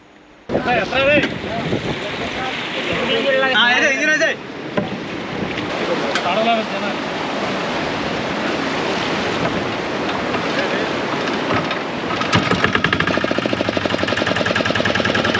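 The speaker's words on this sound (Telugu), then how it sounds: "మోటార్ స్టార్ట్ అయిపోయింది." A motorboat engine hums steadily beneath loud rushing wind and sea noise on the Bay of Bengal off Danavaipeta beach, with a rougher engine throb building toward the end.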